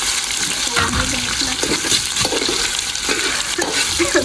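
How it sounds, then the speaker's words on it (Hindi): Potatoes fry in a pan with browned onions for a tahri dish, making a loud, continuous sizzling hiss broken by scraping and stirring clatter, with no voices. "थोड़े से आलू फ्राई करेंगे।"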